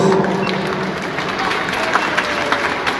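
Audience applause at a Christmas carol contest gala, greeting the Sagrada Familia polyphonic choir at the basilica cathedral; a steady, dense wash of clapping from a crowd, fairly loud and continuous with a few sharper claps standing out.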